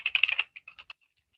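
Rapid burst of computer keyboard typing, close and crisp, a quick run of keystrokes that slows into a few separate taps before going quiet.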